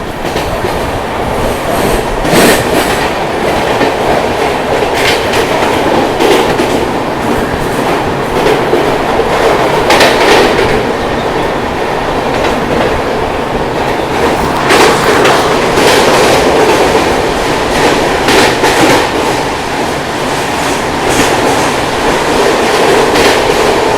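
Inside the CSMT–Nizamuddin Rajdhani Express in 3rd AC, a loud, constant rumble of the running train carries repeated clickety-clack bursts from the wheels crossing rail joints.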